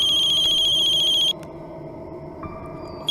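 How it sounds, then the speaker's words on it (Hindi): A phone ringtone trills loudly in a repeating electronic pattern, then cuts off abruptly, leaving a quiet room with faint background hum and a short final chirp. "किसका फोन है?"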